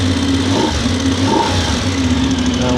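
A VOGE DSX 900 motorcycle engine runs steadily in neutral, a continuous loud mechanical drone with a low throbbing pulse and no talk over it.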